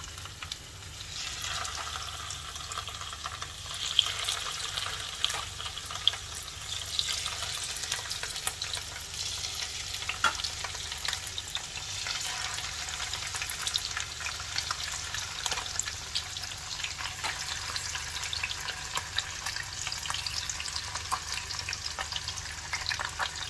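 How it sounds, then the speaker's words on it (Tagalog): Fish frying in hot oil over medium heat, a continuous crackling sizzle with scattered pops and occasional louder spatters, steady for the whole stretch with no talk. "The oil is already hot, so let's start frying the fish."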